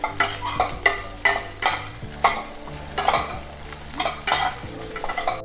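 Wild leafy greens and vegetables are stirred in a frying pan after salt goes in, a spatula scraping in regular loud strokes about once every half second over a steady sizzle, close up.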